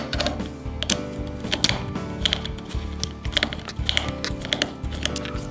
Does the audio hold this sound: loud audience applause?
no